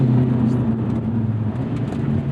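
A 2024 Lotus Emira Turbo with an AMG four-cylinder engine drones loudly and steadily from close by during a slow upshift, the pitch dipping slightly as the gear changes.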